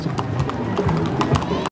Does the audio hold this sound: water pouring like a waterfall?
no